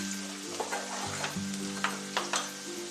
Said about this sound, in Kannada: ನಾನು ಇವಾಗ 4 ಸ್ಪೂನು ಸನ್ಫ್ಲವರ್ ಆಯಿಲ್ ಹಾಕಿದ್ದೀನಿ. ಅದಕ್ಕೆ ಒಂದು 4 ಸ್ಪೂನು ಈರುಳ್ಳಿ ಹಾಕ್ತಾ ಇದ್ದೀನಿ.